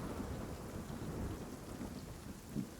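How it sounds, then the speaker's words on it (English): Steady rain hisses through a thunderstorm with a low rumbling roll of thunder, heard as ambient storm noise that swells slightly near the end, with no voices. "the reverberating echo of the storm is so much louder in this tall,"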